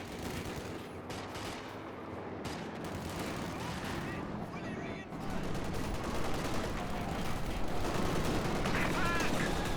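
Dense battlefield gunfire from Company of Heroes 2, with .50 cal machine gun bursts, scattered shots and explosions, continuous and busy, growing louder halfway through.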